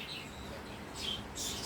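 A one-day-old budgerigar chick gives faint, thin chirps, a few soft high peeps coming late against a quiet room background.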